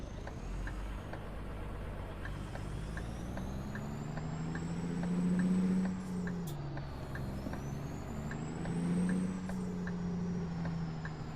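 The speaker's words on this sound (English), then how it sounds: "So this is how I experience driving a semi-truck" Semi-truck driven in a truck simulator video game: a steady engine drone with low rumble that swells twice as it revs, a faint repeating tick throughout, alone with no talking.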